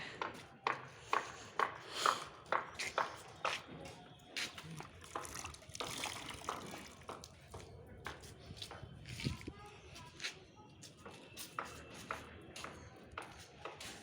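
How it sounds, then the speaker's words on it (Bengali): A child wrings water out of cloth and pours the water away at home, with repeated splashing and dripping bursts, close by, mixed with an adult's encouraging talk throughout. "এই তো চিপিয়ে জলটা ফেলছে"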